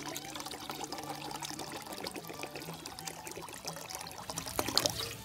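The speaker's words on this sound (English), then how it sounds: "I'm going to put probably a quart of water here" About a quart of water poured into a pot for soup at a camp setting, a continuous close trickling stream that grows slightly louder and splashier near the end.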